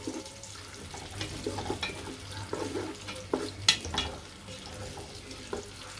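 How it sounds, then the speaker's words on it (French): Chopped onions frying in a pan for djoumblé sauce, a steady soft sizzle under scattered scraping stirs and clinks, with a couple of sharper utensil knocks midway; no talk. "Pour dorer un peu les oignons."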